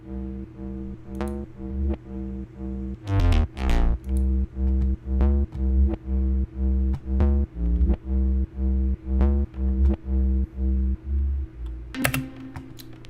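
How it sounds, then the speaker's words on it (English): Deep sub bass in a G house intro plays a simple, repeating melody of short punchy notes in a steady rhythm, loud and alone, with a brief swelling effect near the start and another near the end. "having this kind of sub playing around, doing like a simpler version of the melody that you find in the drop"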